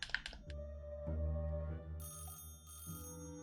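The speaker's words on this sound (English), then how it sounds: "How's that telephone still ringing?" A telephone rings in the video game Beautiful Slavic Adventure, repeated electronic bell bursts sounding over a steady low in-game hum, fairly close and clear, with no talking.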